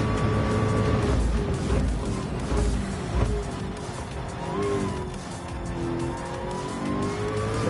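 Gran Turismo 7 GT3 race cars at Daytona accelerate in a dense pack, engines droning and rising in pitch with overlapping passes and a hint of tire squeal, loud and continuous throughout.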